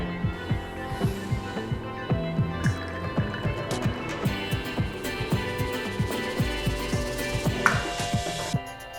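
A Visacrem Ottima Shot Timer 2G espresso machine pulls a double shot: a steady, rhythmic pump pulse thrums up close with a liquid trickle running beneath it, and no voices.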